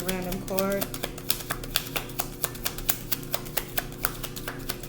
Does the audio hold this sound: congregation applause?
no